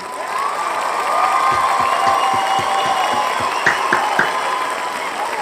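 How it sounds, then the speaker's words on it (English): A crowd applauds the English national team at a World Cup match, with steady clapping and cheering. Several distinct, evenly spaced claps stand out close by over the broader roar. "I'm going to be gracious enough to give them the closing round of applause to the English national team."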